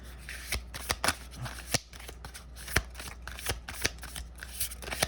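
Tarot cards being shuffled up close, with crisp riffles and soft flicks in an uneven rhythm over a faint background hum.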